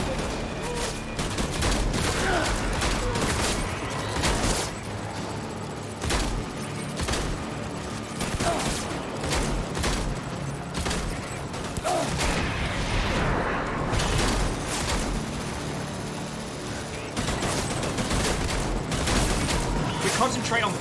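Dense, sustained gunfire and explosions in the video game Death Stranding, a continuous loud barrage of shots and booms running throughout, mixed with voices talking.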